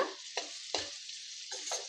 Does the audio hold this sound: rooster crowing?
no